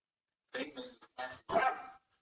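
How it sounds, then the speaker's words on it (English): A small puppy barking a few times in quick, yappy bursts, close and fairly clear against a quiet background. "Got a little puppy bark."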